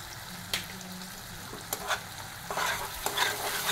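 Turmeric and Kashmiri red chilli cook in a pan as they are stirred, soft scraping strokes over a gentle continuous sizzle, with a few sharper knocks of the spoon.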